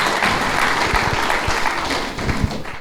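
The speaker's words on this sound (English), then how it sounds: "Round of applause." Audience applause at an AI meetup as a participant is called up, steady dense clapping from a crowd, close and loud throughout with a few sharper claps near the end.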